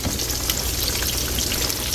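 Green tomato slices frying in a pan give off a steady, close, fairly loud sizzle with crackling pops throughout, and no voices are heard.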